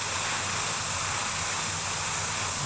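An airbrush sprays thinned paint, about 70% thinner, onto a Tamiya Panther Type G scale model tank, giving a steady, loud, close hiss that continues without a break.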